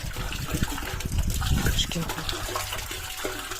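Water trickles and gushes softly from a garden hose onto cucumber plants, running steadily beneath a person talking nearby.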